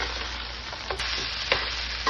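Poha with onion is stirred and roasted in a pan, giving a soft steady sizzle broken by a few scraping strokes of a spoon against the pan.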